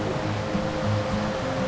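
Steady rushing water of a river flowing beside a well-trodden trail in Nova Scotia, a continuous broadband wash with no voices.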